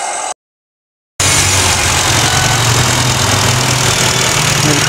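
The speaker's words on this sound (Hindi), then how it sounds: "आइए अब हम इस इंजन को स्टार्ट कर लेते हैं और सुनते हैं होंडा के पेट्रोल इंजन की आवाज़।" A 2019 Honda Amaze VX i-VTEC petrol engine cranks and catches after a brief silence, then settles into a steady, smooth, close idle with no talking.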